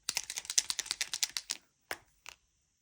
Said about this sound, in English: These markers create some nice noises when you apply them to the paper